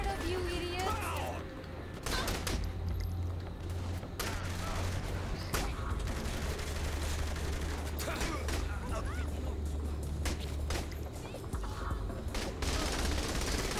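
Steady gunfire in the open-world game Saints Row: The Third, rapid sharp shots repeating through a constant background of game noise, with some voices mixed in at low level.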